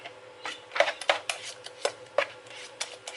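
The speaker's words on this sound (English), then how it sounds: "I will be just giving the yogurt a bit of a stir" A spoon stirring yogurt mixed with chia seed, honey and cinnamon in a breakfast bowl gives a run of light, close clinks and taps against the bowl in an uneven rhythm, with no talk.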